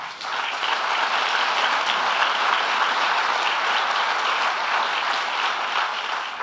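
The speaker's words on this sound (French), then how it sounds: "je pense que ça mérite une main d'applaudissement" Loud, dense applause from a large audience at an engineering awards gala in Quebec, a continuous steady roar of many hands clapping for the full stretch with no speech.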